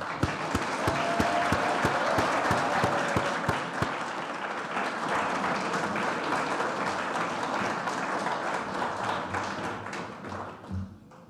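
An audience at a university degree accreditation awards ceremony applauds steadily for several seconds, a dense, moderately distant patter of clapping that gradually thins out toward the end.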